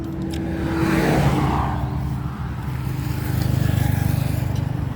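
A heavy Isuzu 4HK 210-horsepower truck diesel engine idles, then revs up and settles into a steady, throbbing rumble close by, with a faint hum running underneath.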